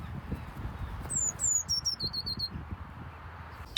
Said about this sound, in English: This is a blue tit.